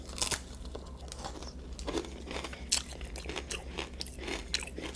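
Crisp, crackling bites and crunching chews into a crunchy caramel toffee chocolate bar, close and intimate, with sharp snaps at the start and irregular crunches continuing over a low steady hum.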